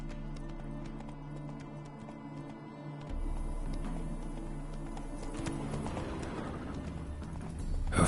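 A horse gallops in the video game Witcher 3, its hooves drumming in a quick steady clip-clop over a low music bed, close and continuous, building louder toward the end.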